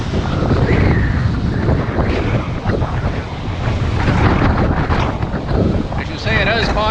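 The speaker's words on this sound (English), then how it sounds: "Fighting that wind" Strong sea wind blows across a Seahorse REVO4 fishing drone and the microphone on a beach, a loud, continuous blustery roar with surf-like rumble and a brief whining tone near the end.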